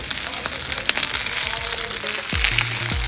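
A mixed vegetable dosa fries in oil on a pan, giving a steady close sizzle and crackle with occasional light scraping and tapping sounds.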